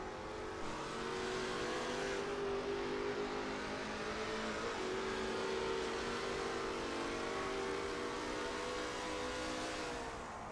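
Video-game Lola T70 MkII Spyder race cars battling on the first lap at Kyalami, with a steady, loud engine drone and shifting pitch as the engines rev and change gear, without commentary.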